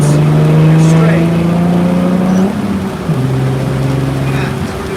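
A race car on a race track accelerates with a loud, close engine note that climbs steadily, drops at a gear change partway through, then holds strong again.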